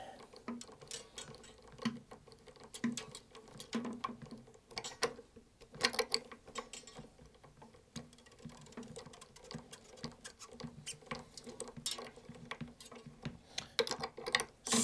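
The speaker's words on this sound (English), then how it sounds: "And then this is where the string winder comes in handy." A string winder cranks an acoustic guitar string onto its tuning peg during restringing, giving a busy, continuous clicking and whirring mechanical patter that runs close and steady throughout with no talk.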